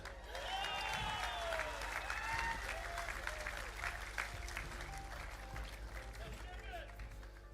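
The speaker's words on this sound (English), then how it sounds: "Another round of applause for Jamin." Audience applause honoring a placing at a fitness competition, a steady wash of clapping and a few cheers, with people talking faintly beneath it.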